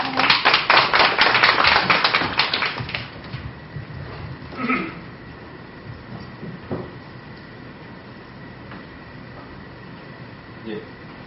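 An audience at a youth media forum gives a short burst of applause to welcome panelists, the clapping loud for about three seconds and then fading into a quiet room hum with occasional faint shuffles.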